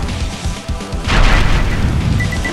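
A missile launcher fires in Wrath of the Dead Rabbit, giving a loud booming burst about a second in that rings on into a dense crash, following softer thumping game sounds.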